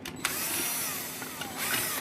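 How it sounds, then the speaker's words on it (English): A power drill with a 9/64 bit whines steadily at close range, its pitch shifting slightly as it bites into a 1/6 scale model tank hull, with no talking. "we need to drill out the 4 holes here to mount it"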